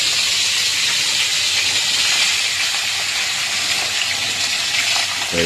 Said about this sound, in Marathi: ते करी लिव्स आपण टाकूया याच्यात